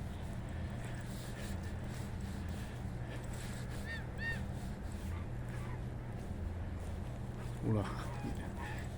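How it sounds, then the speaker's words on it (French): Geese honk a few times at a distance, short nasal calls over steady outdoor rumble and wind. "C'est les oies."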